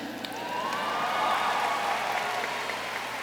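A commencement audience of the class of 2011 breaks into applause, a broad, steady roar of many hands clapping that swells slightly in the middle and carries on with no speech over it.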